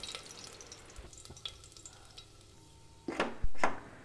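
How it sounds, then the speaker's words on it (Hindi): Chopped garlic cloves frying in hot oil, a low steady sizzle with soft crackles, then a few louder clinks and stirring scrapes near the end. "तेल गर्म होने के बाद सबसे पहले कटी हुई लहसुन की कलियां डालेंगे।"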